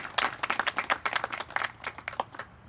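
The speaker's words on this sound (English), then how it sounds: "Let's give them a round of applause." A small crowd claps in quick, uneven bursts at an Army NCO induction ceremony, a steady patter of hands that carries on for a few seconds with no talking.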